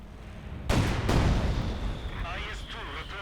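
In Company of Heroes 2, a fuel cache is destroyed with a sudden heavy explosive boom followed by a rumbling decay and battle noise, while a commentator's voice runs over it.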